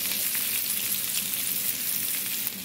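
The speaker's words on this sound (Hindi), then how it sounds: "साथ ही हम प्याज को सोते कर देंगे" Chopped onions sautéing in half a cup of ghee on a tawa griddle, a steady, close hissing sizzle with light crackles, no talking.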